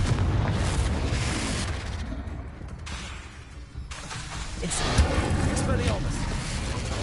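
The Confringo explosion spell from the video game Hogwarts Legacy erupts in loud, booming bursts with a rumbling tail, alongside shouting voices. The blasts briefly dip and then flare again near the end.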